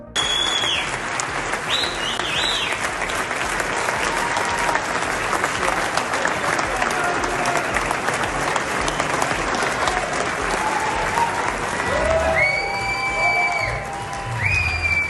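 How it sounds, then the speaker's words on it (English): A large audience at the Chicago Economic Club gives a standing ovation after a presidential interview, with sustained loud, dense clapping, scattered cheers and whoops, and some voices rising near the end. "Standing ovation and huge applause for President Trump following his interview with Bloomberg at the Chicago Economic Club."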